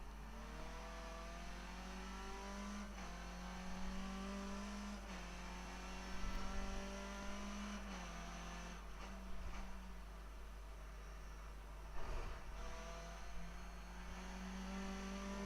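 Race car engine in the iRacing sim, Skip Barber car at Montreal, droning steadily with rising and falling pitch as a rival runs close behind, loud and continuous with no talk.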